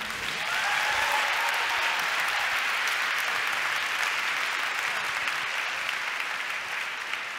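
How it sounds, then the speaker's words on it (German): Conference audience in Berlin applauds a band and dancers, a dense, sustained wash of clapping from a large crowd, steady from start to finish with no talk. "Einen Applaus für unsere Band und für die geilen Tänzer."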